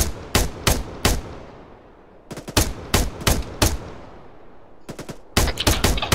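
Gunfire in ARMA 3: loud, close bursts of automatic fire come in three clusters, a few sharp single shots, then a rapid volley, then a dense closing burst, with short quiet gaps between.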